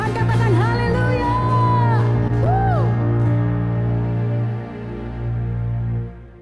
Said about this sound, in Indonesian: Kasih tepuk tangan yang meriah bagi Tuhan, katakan haleluya.